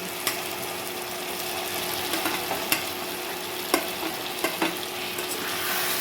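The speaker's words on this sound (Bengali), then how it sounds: "এবারে আমি ভেজে রাখা পনিরগুলো সব একসঙ্গে অল্প অল্প করে কড়াইয়ে দিয়ে দিলাম" Fried paneer with sauces sizzles in a wok for vegetarian chili paneer, a steady close hiss broken by several sharp clicks and scrapes of a spatula stirring, with no talk.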